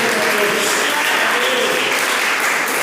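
A church congregation at a healing and deliverance service claps loudly and steadily throughout, a dense continuous applause with no break.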